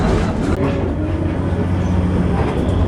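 Passenger train rumbling steadily nearby in Alaska, a continuous low rolling noise with no clear clickety-clack rhythm.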